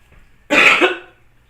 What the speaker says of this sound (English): I'm going to start to cough